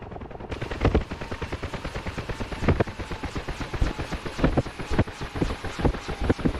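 Simulated gunfire from the DCS World flight simulator, an F-5E shooting down a helicopter: a rapid, dense stream of loud cannon bursts with heavy low thumps, continuous over engine and wind rumble.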